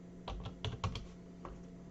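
A confirmation number is typed on a computer keyboard: a handful of quick, soft, close key taps in an uneven burst, followed by a quieter lone tap against a faint background hum.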